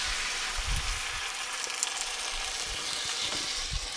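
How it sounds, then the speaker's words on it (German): Sautéed celery deglazed with stock in a Dutch oven: a steady, moderately quiet hiss and sizzle of liquid hitting the hot pot, with a few soft bubbling pops underneath. "mit dem Fond ablöschen"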